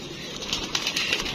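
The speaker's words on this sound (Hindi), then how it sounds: "कबूतर है" A pigeon flaps its wings in brief soft bursts close by, the fluttering rising and falling over a low, steady background.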